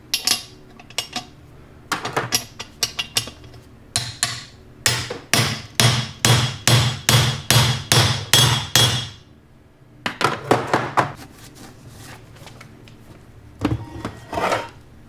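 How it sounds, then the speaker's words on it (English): A hammer drives a bearing race into a Dana 44 differential carrier with sharp metallic strikes. They come in quick clusters, then a long run of evenly spaced heavy blows, then more scattered taps, all loud and close. "And just drive this race in."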